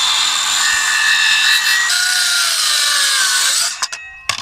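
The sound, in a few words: saw cutting wooden boards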